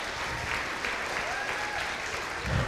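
Audience applause fills a high school rock and roll show: a steady, dense wash of clapping that runs loud and unbroken from start to finish, with faint crowd murmur underneath.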